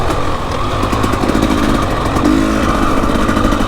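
An old school Kawasaki KLX enduro motorcycle engine drones steadily nearby on a wet, muddy race course, a loud continuous buzzing rasp that holds constant with slight throttle swells.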